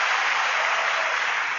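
A dense wash of clapping from a large crowd, steady and loud throughout the short burst with no gaps.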